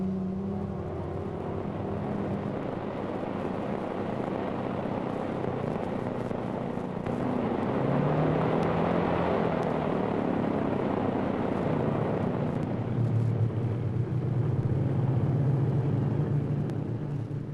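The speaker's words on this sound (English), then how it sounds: "Fighters escorted troop carriers to their objectives, provided cover for both troops and ships" WWII fighter planes roar steadily overhead in a 1944 wartime newsreel, a continuous loud propeller drone that swells midway and holds alone without narration.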